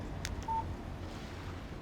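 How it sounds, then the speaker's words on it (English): A phone in the Alan Wake video game gives a single short electronic beep for an incoming text message. The tone is brief and fairly quiet against a low background rumble. "Text message from Barry."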